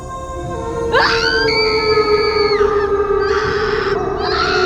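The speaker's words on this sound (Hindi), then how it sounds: "वह डरावनी आवाज में चिल्लाई" An eerie, ghostly woman's scream effect for a haunted Goa bungalow horror story: loud, wavering wailing tones that rise, hold and repeat in sustained cries over a droning background.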